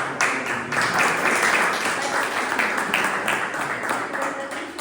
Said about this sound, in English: we have to clap after this feedback